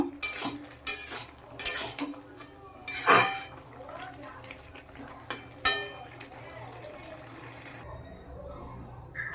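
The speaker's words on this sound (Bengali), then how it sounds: "এখন আমি একটি ঝুড়ির মধ্যে ঢেলে দিব জলটা ঝরানোর জন্য" Cooked taro is tipped out of a cooking pot into a basket to drain its water, giving a run of close, sharp metallic clatters and knocks with light splashing, then a quieter stretch of soft dripping.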